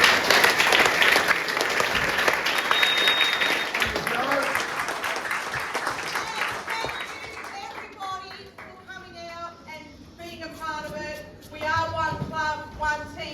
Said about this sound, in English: Can we just give Joe and the team a big round of applause?